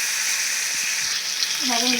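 Fish and four prawns fry in a pan of oil, giving a steady, close sizzle throughout, with a voice briefly audible near the end.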